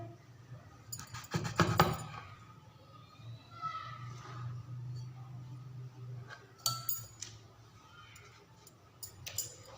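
A hard steel drinking glass pressed down through round slices of bread for bread samosa, giving a quick cluster of metallic clinks and taps near the start, then quieter scattered knocks and clicks later, with soft background hum.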